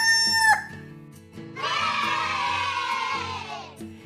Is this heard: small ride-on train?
no